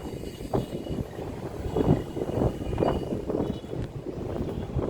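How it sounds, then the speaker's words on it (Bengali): Strong wind blows outdoors on a blustery day where sheets hang to dry, a dense rumbling roar buffeting close to the microphone in uneven gusts for the whole stretch, with no voices. "অনেক বাতাস কিন্তু"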